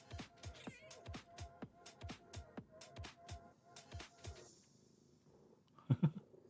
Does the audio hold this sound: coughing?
no